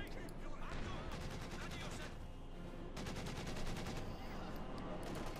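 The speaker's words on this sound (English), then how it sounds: "Shots fired." Gunfire in the real-time strategy game Company of Heroes 2 during a 1v1 match, dense rapid machine-gun bursts and rifle shots crackling almost continuously under a steady din of battle noise, with no break for talk.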